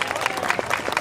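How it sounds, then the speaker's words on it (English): Audience applause at an Avengers Campus live show with M'Baku, a brief burst of crowd clapping, steady and moderately loud with no talking. "Yes, give him a round of applause."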